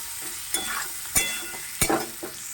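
Chopped onions sizzle steadily in a hot wok, with a few sharp scraping stirs of a spatula against the metal breaking through the frying hiss.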